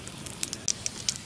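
Cloves, cinnamon and cardamom dropped into hot oil give off a quick scatter of faint, sharp crackles and pops over a soft, steady frying hiss.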